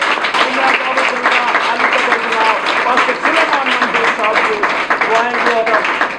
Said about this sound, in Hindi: सो खुदा के खादम को हम ज़ोरदार तालियों के साथ वेलकम करेंगे